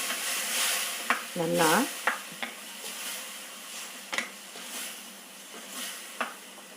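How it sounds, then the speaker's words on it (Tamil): Soft, steady sizzling of tomatoes sautéing in a pan, with occasional scrapes and clinks of a spoon stirring. "போட்டு இந்த தக்காளி இதுலேயே வதங்கட்டும்."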